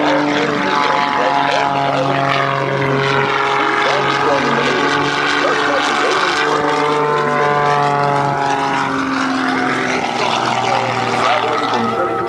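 A Pitts S2C aerobatic biplane flown by Ed Hamill at the 2005 Rhode Island airshow, its propeller engine droning loudly with pitch sweeping up and down as it maneuvers, with a commentator's voice over it.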